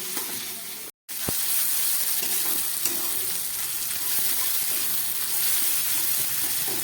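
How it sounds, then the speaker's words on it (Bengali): Onions fry in a pan for a fish curry with a continuous close sizzle and occasional stirring scrapes. A brief dropout comes near the start, then the frying noise carries on steadily. "পেঁয়াজটাকে ভালো করে ভেজে নিচ্ছি"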